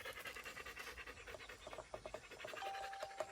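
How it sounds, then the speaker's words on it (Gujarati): A dog pants quickly and rhythmically close by, with quick breathy bursts throughout and no voices. "લિયો ડેન્જર છે યાર કૂતરો"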